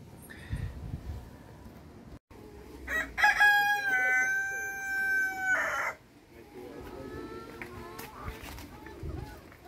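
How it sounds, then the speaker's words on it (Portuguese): A chicken gives one long, loud, drawn-out crowing call lasting about two seconds, close by on a farm, with people talking quietly before and after. "Canta, galinha, canta."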